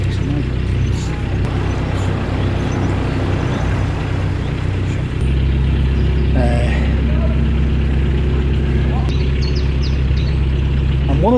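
A narrowboat engine idles and chugs steadily on a canal at a lock, a low continuous throb that deepens partway through as the revs change, with distant voices and small clanks around it.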